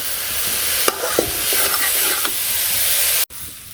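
Fish and vegetables frying slowly in a pan without water in a home kitchen, a steady sizzle broken by a few scrapes and stirs, close and fairly loud, ending with a sudden cutoff near the end.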